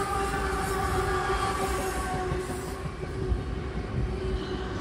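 An eastbound intermodal freight train of containers and loaded auto racks rolls steadily past the Game Farm Road crossing in New Scotland, New York, a continuous loud rumble of wagons and wheels close by without pause.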